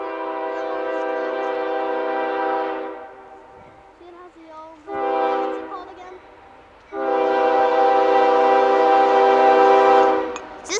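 A military train passes at Shenandoah Junction, sounding its horn close and loud: a long blast, a brief quieter gap, a shorter blast, then another long sustained blast.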